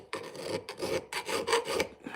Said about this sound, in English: file it like I'm doing. I'm taking down some of the harsher edges